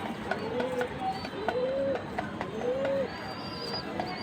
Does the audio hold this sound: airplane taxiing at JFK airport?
no